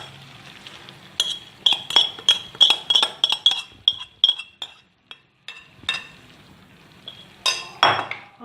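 Marinated chicken going into a pan for anarkali biryani and being stirred, heard as a run of bright metallic clinks and scrapes of a utensil against the pan, fairly close, then a few scattered clatters with no talk.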